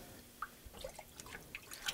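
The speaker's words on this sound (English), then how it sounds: "So I'm just going to kind of rinse this here, and just the mask just kind of softens." Warm sink water sloshing as a softened sandcarving mask is rinsed off glass, soft close drips and small splashes scattered irregularly over a quiet background.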